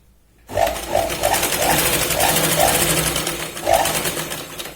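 Sewing machine stitching a Punjabi dress made from a saree, a steady close whirring run after a brief silent start, with a repeated soft tapping pulse riding through it.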